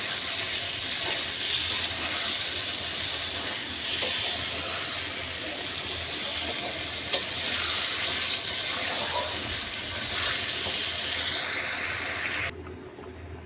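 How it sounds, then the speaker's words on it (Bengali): Chicken meat and potatoes being stir-fried in a pan make a dense, steady, rushing sizzle that runs for several seconds, then drops away abruptly near the end, with no speech. "এই যে এখন ভালোভাবে আমি কষিয়ে নেব গোশ আর আলু।"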